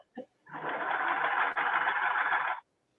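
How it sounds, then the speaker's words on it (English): A sewing machine runs in one continuous two-second burst of fast, buzzing stitching, close and clear, after a brief tap. "I'm actually doing some sewing of my own today while I listen and take these classes."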